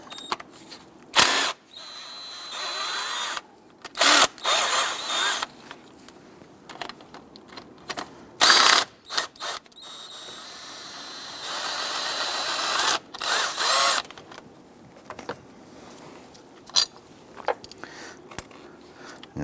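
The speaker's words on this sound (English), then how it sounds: "Use your 15mm socket, loosen and remove these bolts." A ratchet with a 15mm socket loosens bolts during coolant crossover pipe work on a 2011-2021 Jeep Grand Cherokee, giving close, uneven bursts of sharp metallic clicking separated by short pauses.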